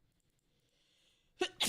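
A single sneeze bursts out near the end, with a faint second burst right after it, following near silence and a faint tone.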